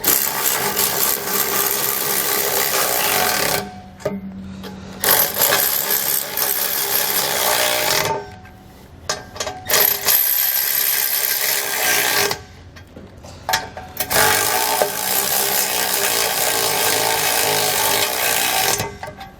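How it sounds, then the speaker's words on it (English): A power tool with a 19mm socket snugs fifth wheel hitch bolts on a 2020 GMC Sierra, running in several loud, grinding bursts separated by short pauses. "Now that we have all of our bolts started, we'll come back with a 19mm socket."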